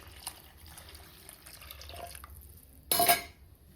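Water poured into a cooking pot before salting and boiling, with a faint trickle at first and then a short, loud splashing gush near the end.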